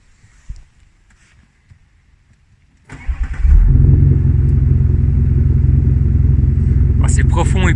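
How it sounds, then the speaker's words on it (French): Audi SQ7 with a V6 TDI diesel cranks and fires up after a quiet stretch, settling into a loud, deep, steady idle rumble close by, with a brief voice near the end. "On va assister au démarrage du V6."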